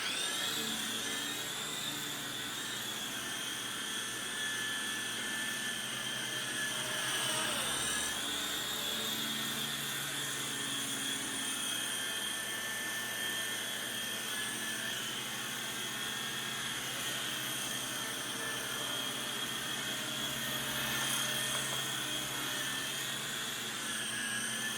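Small Syma S39 Raptor RC helicopter flying indoors, giving a steady, thin high-pitched electric motor whine with a faint rotor whir that holds fairly constant throughout.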